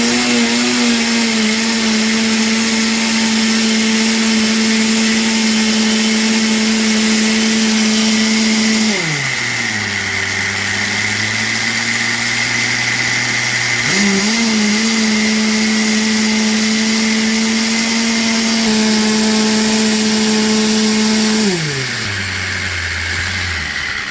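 A blender churning goat milk cream into butter runs continuously and loudly, its motor pitch dropping twice as the thickening contents bog it down, then recovering.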